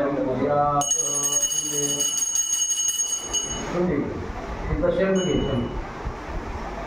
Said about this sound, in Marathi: घंटी वाजवायची घंटवना